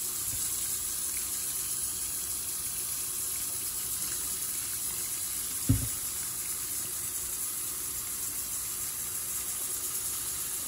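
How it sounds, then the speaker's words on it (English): A kitchen tap runs steadily into a sink filling with dish water, Dawn soap and a little bleach, a constant close rush of water with one brief clunk midway and no talking. "Went ahead and made some dish water using Dawn, and I also put a little bit of bleach in there"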